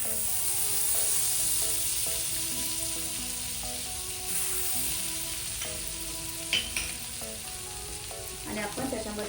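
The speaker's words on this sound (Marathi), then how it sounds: "कढई गरम झाली आहे, आता आपण याच्यामध्ये बटर टाकून घेऊया।" Butter sizzles and fries steadily in a hot kadhai, a continuous crackling hiss with a few brief stirring clinks toward the end.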